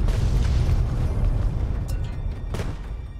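A scripted explosion in the video game Fallout New California booms loud and close, a deep rumbling blast that slowly decays, with a couple of brief debris crackles after it.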